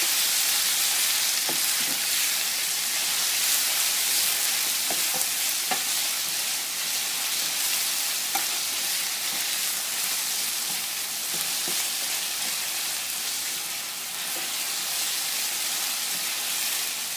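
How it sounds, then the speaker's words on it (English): Garlic and onion fry steadily in a pan with constant stirring, a continuous loud sizzle broken by occasional utensil scrapes and clicks, with no voices. "Make sure we constantly stir it so we don't burn the garlic."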